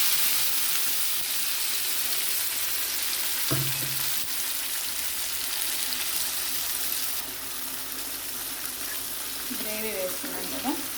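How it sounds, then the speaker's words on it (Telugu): Ground spice gravy of cloves and pepper sizzles steadily in hot oil in a pan for a mushroom curry, a constant close hiss with a few stirring scrapes and clinks. "గ్రేవీ వేసుకున్నాక ఇదంతా ఫ్రై లాగా చేసుకోవాలండి"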